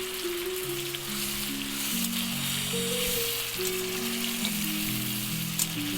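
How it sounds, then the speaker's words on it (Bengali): Paneer curry sizzling and bubbling steadily in a hot pan after a splash of water, a dense frying hiss carrying across the whole stretch with shifting tonal hum underneath and no talk. "একটু জল দিয়ে দিচ্ছি।"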